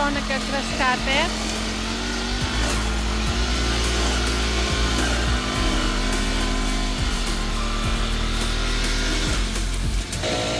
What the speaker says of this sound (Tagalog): Ayan po si Harry, siya po ang nagka-grass cutter.